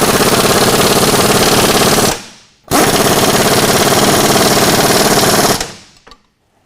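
A power tool runs bolts up tight while a truck lowering kit is installed: two loud, long bursts of rapid hammering rattle close by, separated by a brief pause, and each ends with an abrupt cutoff.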